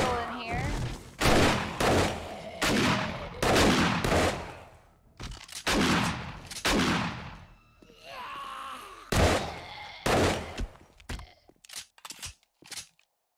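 An auto shotgun fires heavy, booming blasts in 7 Days to Die, a string of loud shots in quick rhythm with brief pauses, ending in a few sharper clicks and pops.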